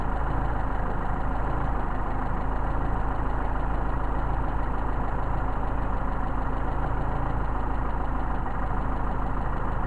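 A Mercedes 190SL engine with Solex carburetors idles steadily and loudly, a continuous close rumble with an even, slightly rough beat and no speech over it.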